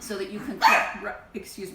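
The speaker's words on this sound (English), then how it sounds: "that's my dog" A dog barks once loudly close by, a short sharp burst cutting into a person's ongoing talk in a kitchen, followed by faint softer yips.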